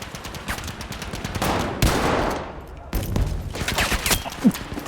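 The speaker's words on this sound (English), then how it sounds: "No, machine gun!" Machine gun fire in Battlefield 5 rattles in dense, rapid bursts with brief gaps between volleys, loud and close, blending into a continuous fusillade.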